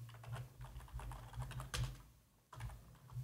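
Quiet, rapid clatter of someone typing code on a computer keyboard, a steady run of soft key taps with a brief pause near the end before typing resumes, close and alone.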